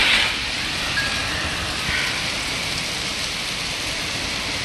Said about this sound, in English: This is a monsoonal rainstorm.